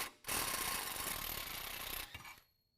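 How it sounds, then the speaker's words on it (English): A wrench and 20mm socket work the factory bottom shock bolt loose on a 2019 Chevy Silverado 1500, giving a brief burst of rapid ratcheting clicks close up, then falling quiet. "holding a wrench on one end and a socket on the other in order to remove the bottom"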